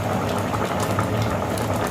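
Bitter gourd pieces boil in a pot, filling the scene with a loud, continuous bubbling and churning of water and no voices.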